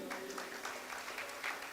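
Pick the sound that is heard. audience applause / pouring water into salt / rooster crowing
audience applause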